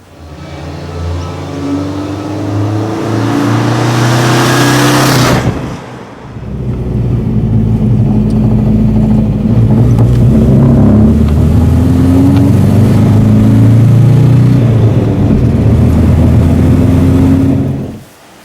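A 1989 Subaru Brumby engine revs and accelerates loudly up close, a rising drone broken by a short gear-change dip, then pulling hard again before cutting off.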